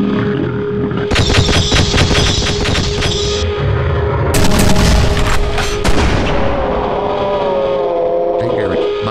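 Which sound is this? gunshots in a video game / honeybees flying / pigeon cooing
gunshots in a video game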